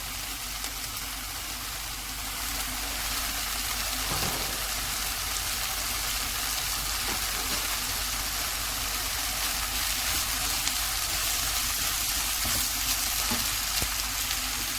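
Onions and tomatoes frying in a pan for stuffed karela give a steady, even sizzle throughout, with a few soft stirring knocks and no voices.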